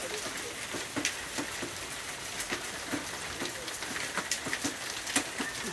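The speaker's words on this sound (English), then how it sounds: "The hail is coming down." Hail falling in a backyard, a steady hiss of ice striking the ground and surfaces with scattered sharper individual impacts, continuous and fairly close, with no voices.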